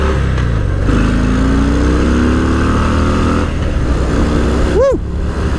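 A Harley-Davidson Fat Bob 114 motorcycle pulls away with a loud, close, deep engine rumble as it accelerates through the gears, with a brief whooping sweep near the end.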